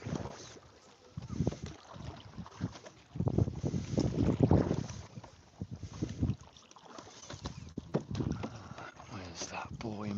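A paddle strokes through lake water in an irregular rhythm of splashes and swishes, with wind buffeting the microphone and a person talking over it.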